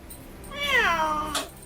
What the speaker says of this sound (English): Look at the kitties.